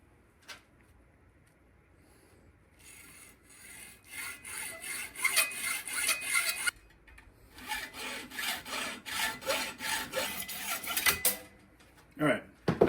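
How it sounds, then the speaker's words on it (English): Screw heads are cut off on a hog splitter during a restoration, a close harsh rasping and grinding of metal in repeated strokes with brief pauses and sharp clanks, while people talk. "So I'm going to cut all the heads off the loveless screws and the screws off the other"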